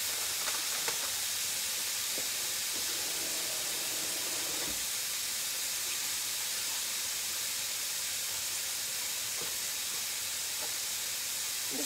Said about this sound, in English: I just wanted to get this zucchini kind of sauteed.